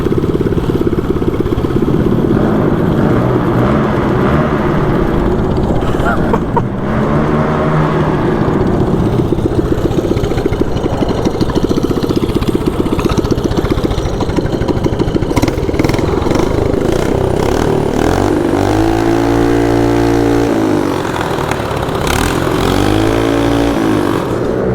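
A 224cc mini bike engine runs loud and close, idling roughly and then revving repeatedly in rising and falling bursts, with the engine droning continuously throughout.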